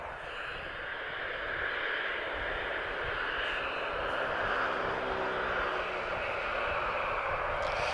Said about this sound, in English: Okay, Ryanair's finally on the move.